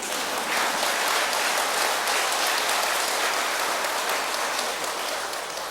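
Sustained applause from a seated audience at a Buddhist monk's dharma talk, steady and dense for several seconds before easing slightly at the end, with no voices over it.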